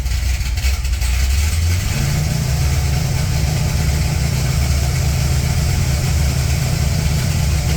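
A Corvette C6 Z06 engine idles with a deep, loud rumble, then rises in revs after about two seconds and holds a steady, elevated drone, heard up close with no one speaking.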